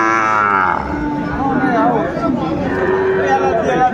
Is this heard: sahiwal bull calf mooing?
yes